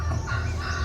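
Chickens cluck and squawk in a steady, dense backyard chorus, close and continuous for under a second.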